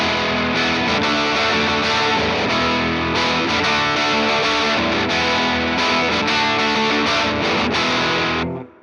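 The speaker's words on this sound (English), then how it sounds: "Here's the humbucker in the bridge position." Pawn shop electric guitar on its bridge humbucker through a cranked AC15, thick overdriven chords and riffs played continuously and loud, ringing out and cutting off at the end with no voices.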